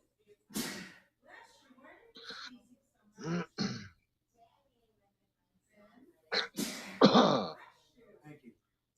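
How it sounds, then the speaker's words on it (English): Two sharp bursty sneeze-like sounds, one early and one louder later, separated by quiet stretches with faint voice fragments nearby. "Sneeze."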